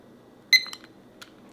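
A kitchen timer gives a short electronic beep, then a couple of fainter chirps a moment later, close and clear over a quiet room.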